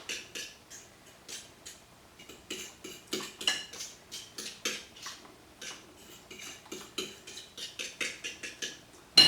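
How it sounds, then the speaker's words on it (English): Egg and buttermilk stirred hard in a bowl for fried green tomato batter, a steady run of quick, close clinks and scrapes of a utensil against the bowl, with no talking. "just take the egg and buttermilk and just stir it up real good"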